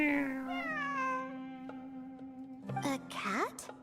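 A cat in Genshin Impact gives a drawn-out meow that slides downward and fades, followed by a couple of short, higher mews near the end, clear and close against a quiet background.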